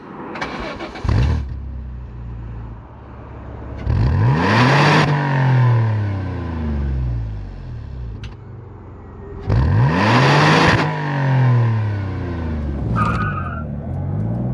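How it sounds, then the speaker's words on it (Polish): A Peugeot 406 Coupe engine with a throaty aftermarket exhaust revs hard, rising and falling in repeated surges, with tyres squealing through the revs. "w tym samochodzie znajduje się także akcesoryjny wydech"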